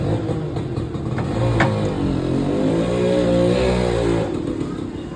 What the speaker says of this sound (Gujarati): આ છે ગાડીનું એન્જિન.